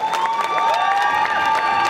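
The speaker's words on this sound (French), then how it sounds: "On applaudit le Spider-Verse, groupe les applaudissements." An audience at a costume contest applauds and cheers for a Spider-Verse costume group. Steady crowd clapping mixes with excited shouts and whistles throughout.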